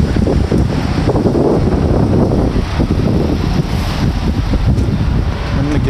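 Strong wind blows outdoors on a cold day, buffeting the microphone in a loud, continuous rush with gusty swells throughout.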